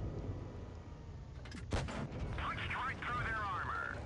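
A KV-1S heavy tank's main gun fires in World of Tanks Blitz, one sharp loud blast with a rumbling tail, followed by whistling shell and battle effects over a steady background din.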